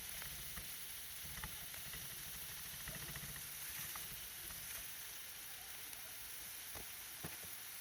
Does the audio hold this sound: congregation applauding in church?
no